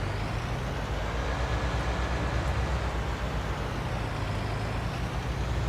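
A tractor engine in the video game Farming Simulator 19 drones steadily, a dense low rumble at constant level with no pauses.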